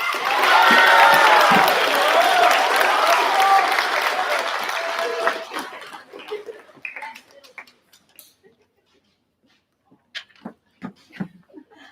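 A crowd at a middle school moving-up ceremony for the class of 2023 gives loud sustained applause with some cheering, which tapers after about six seconds into scattered individual claps, with a voice speaking briefly amid them.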